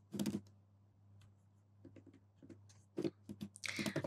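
Text is typed on a computer keyboard in short bursts of close, crisp key clicks separated by quiet pauses, with a faint low hum underneath.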